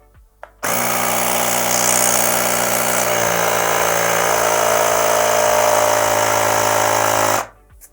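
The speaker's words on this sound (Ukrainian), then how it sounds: "компресор докачав і автоматично вимкнувся" A Baseus Energy Source portable car tire inflator runs steadily with a buzzing motor hum and rattling vibration, then cuts off automatically after about seven seconds on reaching 2.5 bar.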